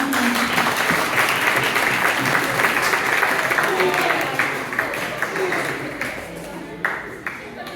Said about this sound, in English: So give a round of applause for these four gentlemen.